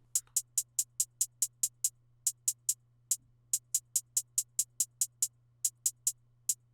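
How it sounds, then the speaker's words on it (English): Crisp hi-hat ticks repeat in a quick steady pattern, with brief gaps where some hits drop out, dry and close over a faint hum. "we have the hi-hats, which are going to sound like this"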